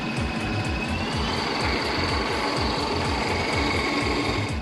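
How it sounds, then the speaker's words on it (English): A lubricant test machine running under heavy load with Bardahl B2 oil gives a loud, steady mechanical chatter, a fast even rhythmic pulsing over a constant whine, close and unbroken, with no one talking. "Our machine is still running."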